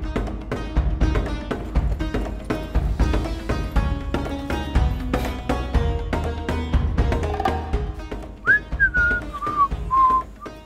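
A man whistles a short tune in an Indonesian comedy scene while walking home from a prayer room. The whistling is clear and close, rising over busy rhythmic background music toward the end.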